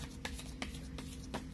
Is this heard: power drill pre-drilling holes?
no